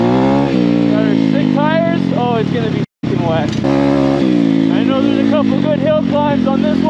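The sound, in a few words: Apollo RC pit bike with 150 engine riding trails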